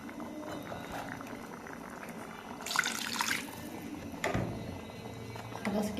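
Water poured into a cooking pan sizzles and bubbles, with a brighter rushing pour in the middle and soft clatter near the end, close by with no talking.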